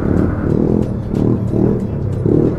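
A loud, throaty engine rumble from a modified TVS Ntorq scooter exhaust, surging in repeated pulses as it is revved again and again at close range.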